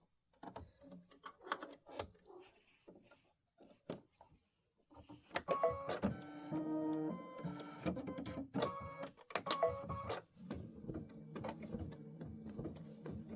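An Aveneer embroidery machine stitches a design with rapid mechanical tapping and whirring, first in scattered short bursts, then a denser, louder run of continuous stitching with rhythmic clatter, close up and without talk.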